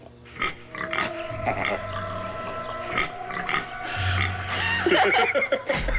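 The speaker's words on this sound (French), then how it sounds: "C'est mon petit cochon. Il grogne quand on appuie sur sa tête." A toy pig squeaks out a series of grunting, oinking sounds when its head is pressed, up close and fairly loud, with a steady tonal hum underneath.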